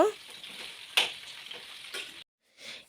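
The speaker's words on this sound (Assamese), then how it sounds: "এতিয়া ইয়াতে বগৰীখিনি দি দিলোঁ আৰু বগৰী গোটেইখিনি দি ধুনীয়াকৈ ভাজি ল'ব লাগিব।" Jujube berries frying in a pan with panch phoron and dried chilli make a steady, quiet sizzle with scraping stirs, cutting off briefly before resuming.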